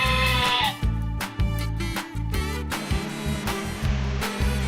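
Sheep bleat loudly and close in a farmyard, a run of repeated wavering baas following one another with only brief gaps between calls.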